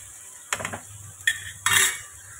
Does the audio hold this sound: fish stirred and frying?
yes